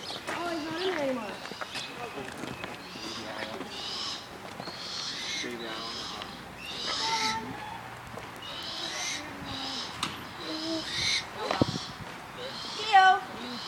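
An owl in a bird-of-prey pen gives a few soft hoots mixed among calls, heard beneath someone talking over it throughout.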